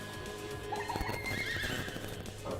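A whinny from the Horse Whispering skill in the Miitopia video game rises over a busy backdrop of game music and effects, with faint hoof clop sounds.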